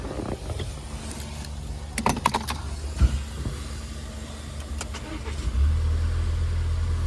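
A Volvo S60 petrol engine starts and idles steadily close by, with a few sharp clicks and knocks early on and a deeper rumble swelling near the end.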